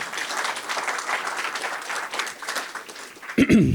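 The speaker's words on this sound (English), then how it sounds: "So please, a big round of applause for BREC" A seated audience at a commemoration event in a Baton Rouge gallery gives steady, dense applause that holds level throughout, ending in a louder burst of claps near the close.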